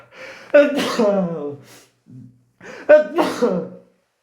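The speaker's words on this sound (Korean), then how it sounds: "재채기가" A person sneezes indoors, a sharp burst with a gasping intake, followed by a second similar burst after a short pause.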